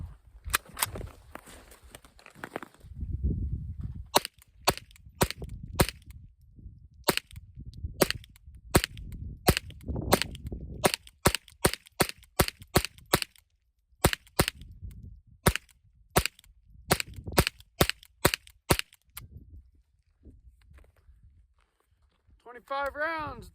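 Ruger 10/22 semi-automatic .22LR rimfire rifle with a 25-round BX25 magazine fired outdoors in a long string of sharp, fairly quick shots, someone talking at first and again between bursts.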